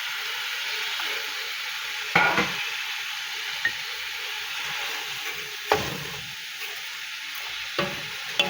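Vegetables for pancit bihon stir-frying in a hot pan: a continuous bright sizzle broken by a few louder scrapes and tosses of a spatula, with no voices.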